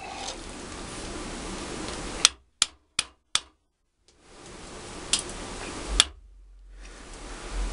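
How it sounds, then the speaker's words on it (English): A hammer taps a top and bottom fullering tool forward on a bent steel plate, giving four sharp close strikes in quick succession and then two more spaced knocks against a background hiss. "Now, tap it forward until the holes you drilled line up."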